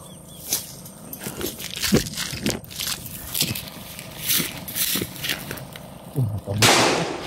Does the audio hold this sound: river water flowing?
no